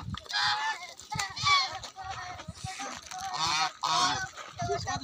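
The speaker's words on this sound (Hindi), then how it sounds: "अभी मैं बत्तख को बिस्किट खिला रहा हूँ" Waterfowl at a lake honk and squawk loudly in repeated bursts close by as they are fed biscuits, with scattered splashing and background noise between the calls.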